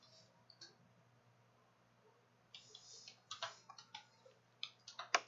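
Fingers type on a computer keyboard in a quiet room, a handful of soft, close clicks in a short burst after a near-silent stretch, with a few isolated taps at the start.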